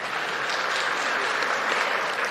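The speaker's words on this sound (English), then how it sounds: "We can also clap." Applause fills a provincial legislative chamber during departmental budget vote proceedings: a steady, dense wash of many hands clapping at once, moderately loud and unbroken, with no voices standing out above it.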